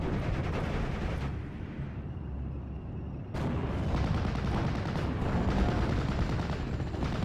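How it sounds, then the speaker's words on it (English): Bombs from a bombing run in a World War II strategy video game burst in a dense, continuous rumble of explosions, with a brief lull partway before the blasts resume loud and close. "Looks like we are going to see a bombing run to the area."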